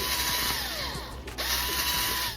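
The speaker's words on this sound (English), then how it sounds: "take your drill," Power drill whirring steadily while enlarging the holes in an aquarium sponge filter, a continuous close motor whine with a brief dip in speed midway through.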